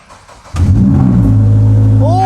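A Toyota GR86 starts with no exhaust fitted and revs loudly, an abrupt burst into a raw, harsh drone that holds steady, close and loud, with a rising whine near the end.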